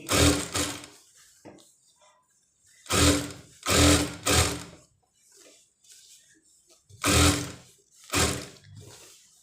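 Sewing machine stitching a sleeve onto a satin long gown, loud bursts of rapid whirring that stop and start several times, with quieter handling sounds in the pauses.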